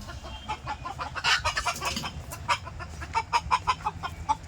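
Farm chickens clucking close by, a run of repeated short clucks and squawks that grow busier toward the end, over a low steady background hum.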